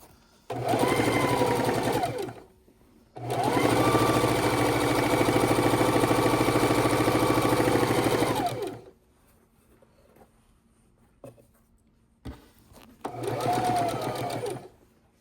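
A sewing machine stitches quilt seams where strip-pieced jelly roll blocks meet, in three long loud bursts with short pauses between, the middle run lasting several seconds, then a quieter stretch of small handling sounds.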